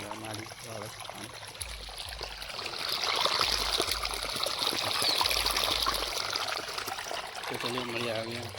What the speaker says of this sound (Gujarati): જો ફાઇનલી પાણી આવી ગયું છે ખેતરમાં.